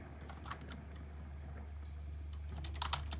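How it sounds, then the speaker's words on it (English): Keys clatter steadily on a computer keyboard with a few louder taps near the end, close and alone over a low steady hum, during a solo Pathfinder 2e tabletop game session. "my typing skills are awful."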